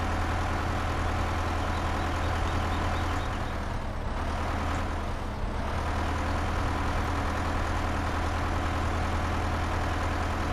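Tractor engine labouring to pick up speed in Farming Simulator 15, a loud, steady low drone held at constant revs throughout, with a brief dip and recovery midway and no talking over it.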